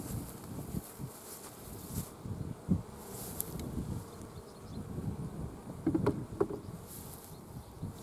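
Bees hum faintly around a beehive outdoors, a low continuous buzz with occasional soft rustles and light knocks.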